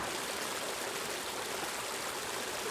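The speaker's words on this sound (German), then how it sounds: "Auf dem Video sieht man, mit welcher Wucht das Wasser runterkommt." Water rushes down forcefully in a steady, dense roar, loud and close, filling the whole clip without pause or voices.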